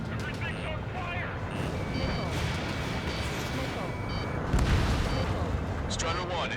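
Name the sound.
anti-aircraft gun being destroyed in video game Ace Combat 7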